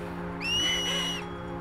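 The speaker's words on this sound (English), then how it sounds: "It's whistle, and Yuna knows what it means for some reason." A sharp whistle in the role-playing game Final Fantasy X, one sustained high tone lasting under a second over a low background hum, with no speech.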